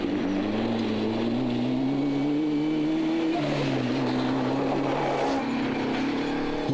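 A Class 1 off-road racing buggy engine at the Taupo 1000 off-road race, a loud, close, continuous engine drone with a shifting pitch as it revs and settles, no voices.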